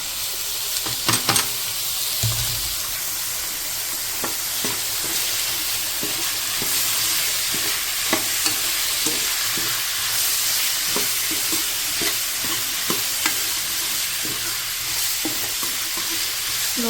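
Pumpkin pieces frying with onions in hot oil for a pumpkin sabzi, with a loud continuous sizzle and occasional spoon clinks and stirring scrapes up close.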